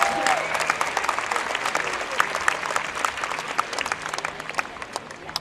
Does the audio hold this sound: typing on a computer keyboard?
no